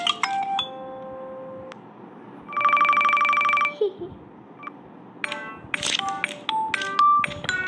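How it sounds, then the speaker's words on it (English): A ringtone plays from an OPPO Watch 46mm WiFi smartwatch: a short, bright electronic melody of sustained tonal notes, near and clear, followed by several quick chiming tones, with no talking over it. "Select the ringtones."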